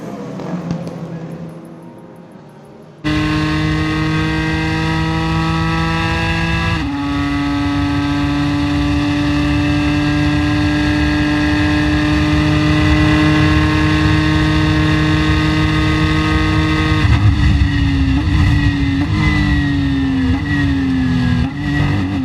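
A 2016 Ford GT race car at speed at Le Mans, its engine a loud, steady, close-up roar that holds throughout, with clear pitch drops at gear shifts followed by climbing revs.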